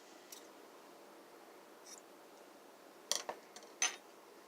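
Scissors snipping a crochet yarn tail on a small heart applique: a few faint, quiet clicks and short snips, with two sharper cuts late on against a near-silent background.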